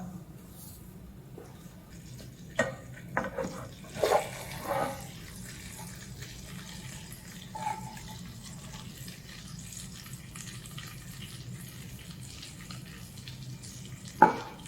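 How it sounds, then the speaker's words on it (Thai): Homemade burger patties fry under a cover in a pan, a low, muffled sizzle that runs steadily beneath occasional clinks and scrapes, with brief soft talking. "ทอดเบอร์เกอร์นะครับเราก็จะหาอะไรมาครอบไว้นะครับ"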